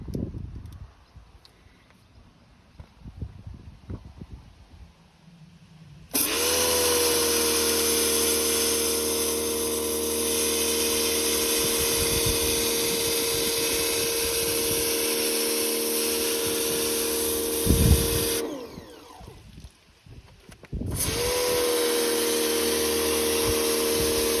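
A Nilfisk pressure washer on its low-pressure setting with the gentle nozzle attached sprays in long steady bursts of loud hissing spray with a motor hum. A short pause splits the runs, and the quieter stretches before the spraying carry faint handling noise.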